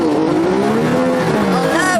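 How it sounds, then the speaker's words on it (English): A Chevrolet Corvette roars away from a race start against a TVR, its engine note rising quickly with a faint tyre squeal, loud and close. "The Corvette's roared off into an early lead."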